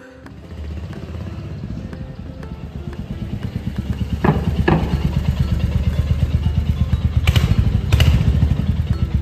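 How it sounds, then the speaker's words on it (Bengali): A Royal Enfield motorcycle engine runs steadily up close, its low, rhythmic thumping firing pulse growing slightly louder, with a few brief clanks and thuds over the top. "এই যে আমাদের বাইক রয়্যাল এনফিল্ড ডেলিভার্ড হয়ে গেছে"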